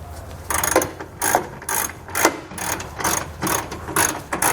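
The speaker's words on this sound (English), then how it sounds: "Then we can come back with that same 21mm socket and tighten up the bolts." A ratchet with a 21mm socket tightens trailer hitch bolts on a 2018 Chevrolet Colorado, giving about eight quick bursts of sharp metallic clicking in a steady back-and-forth rhythm, close and fairly loud with short pauses between strokes.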